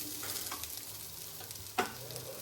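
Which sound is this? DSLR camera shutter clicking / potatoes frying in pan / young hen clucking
potatoes frying in pan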